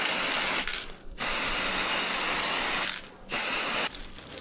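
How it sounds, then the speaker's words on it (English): Three long bursts of broad aerosol hiss from a spray paint can onto paper flower petals from 20 to 30 centimeters away, with two brief pauses between sprays, close and loud. "Shake the spray paint well and keep it about 20 to 30 centimeters away from the petals"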